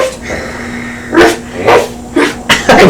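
A person imitates a dog, giving about five short, loud barks and yips in an irregular rhythm, close up and with no other talk.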